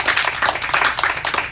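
A small group of high school JV players clapping for themselves at a team gathering, a dense, steady patter of hands that stays fairly close, with brief voice sounds mixed in.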